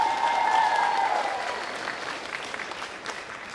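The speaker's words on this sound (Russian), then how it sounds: "Проводим Ализу аплодисментами." Steady applause from a festival audience at an opening ceremony, loudest at the start and then tapering slightly, a dense wash of many clapping hands with a brief tone heard early on.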